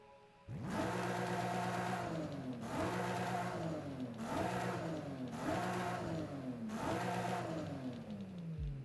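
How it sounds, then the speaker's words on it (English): A loud stock Toyota Supra exhaust drones continuously with repeated rising revs, about five cycles, like a car accelerating through gears in Forza Horizon 5. "you can hear a change in the exhaust note"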